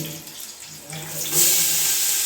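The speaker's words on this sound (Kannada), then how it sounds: "ಇದು ಅರ್ಧ ಕಟ್ಟು ಮೆಂತ್ಯ ಸೊಪ್ಪು ನೀರು ಹಾಕ್ತೀನಿ" Water runs and splashes steadily into a pan of fenugreek leaves, growing louder partway through, close by with no talking.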